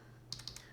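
Computer keyboard typing of a MATLAB command: a handful of quick, soft key taps in a short burst over a faint steady hum.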